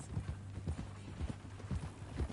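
Horse hooves clip-clopping in the Red Dead Redemption 2 video game, a steady rhythmic walk of close, distinct hoof strikes on the ground, with no talking.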